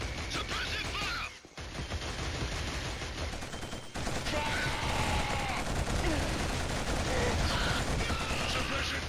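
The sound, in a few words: suppressive gunfire in Killzone video game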